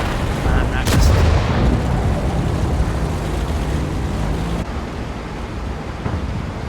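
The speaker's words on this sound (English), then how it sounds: "Is that the sound of that super heavy German tank?" A super heavy German tank in World of Tanks fires its cannon, a sharp loud boom near the start followed by a rumbling decay and ongoing engine and battle noise, with a few smaller impacts later.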